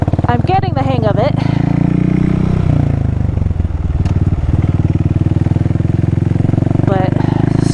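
A motorcycle with a loud exhaust rumbles continuously with a throbbing engine note while riding, under intermittent talk and some clatter.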